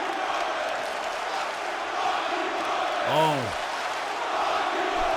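Los Angeles arena crowd in the WWE 2K18 wrestling game jeering Roman Reigns at a No Mercy main event, a steady, broad wash of massed voices at moderate distance, with a brief spoken exclamation rising over it midway.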